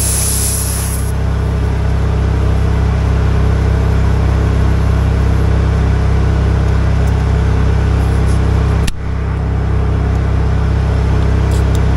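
A generator engine runs during the reseating and inflating of a tractor tire, giving a loud, unbroken drone through the whole stretch with only a short dip near the nine-second mark.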